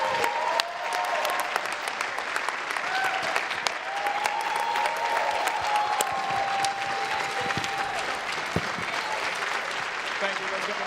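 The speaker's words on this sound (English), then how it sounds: "Let's give them a round of applause." Audience applause after a panel at the Beyond the Bars Conference opening night: sustained, crackling clapping from a crowd, with voices talking faintly underneath.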